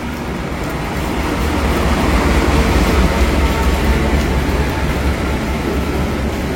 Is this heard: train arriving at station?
yes